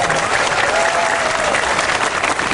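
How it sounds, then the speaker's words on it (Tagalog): Audience members at a religious debate between a pastor and an Islamic teacher break into loud, dense clapping that holds steady for a couple of seconds. "isang palakpak naman mga kapatid"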